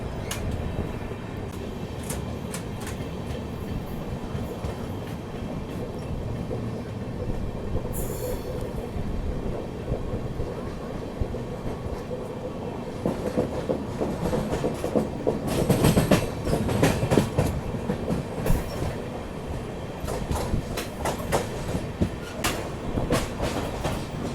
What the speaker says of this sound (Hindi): WAG7 ट्रिपलेट्स, ये 3 बैंकर लोकोमोटिव्स अपनी ट्रेन को लगेंगे।